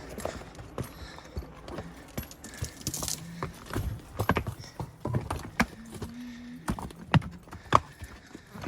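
Hooves of several horses clop on hard, rough ground during a cattle drive, an uneven, shuffling rhythm at close range, with faint jingling and occasional snorts.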